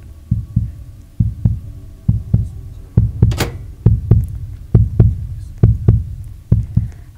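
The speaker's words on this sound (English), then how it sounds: "I still hear the heartbeat." Repeated heartbeat thumps signal the beast's approach in the Roblox game Flee the Facility, a steady double-beat pulse of loud, close, low thuds running throughout without talk.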